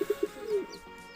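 Pigeons in a loft, with a few short soft coos up front and then a longer low coo, close and clear against a quiet room.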